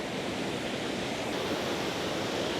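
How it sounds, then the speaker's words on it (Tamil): A waterfall in an African forest roars as a dense, steady rush of water, loud and constant with no voices over it. "செமையாக இருக்குது பாருங்கள் வாட்டர் ஃபால்ஸு."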